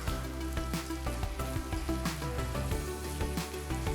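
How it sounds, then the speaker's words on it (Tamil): Onions sauté in a pan for jackfruit biryani with a steady, close sizzle and crackle, while soft music plays underneath. "வெங்காயம் பொன்னிறமாக வர வரைக்கும் வதக்கலாம்"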